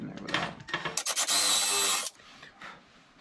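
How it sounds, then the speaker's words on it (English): A power drill bores a pilot hole into a wooden cross member of a kids' Adirondack chair in a workshop. The close, whining burst lasts about a second, with brief handling clatter before and after. "we're going to pre-drill this cross member"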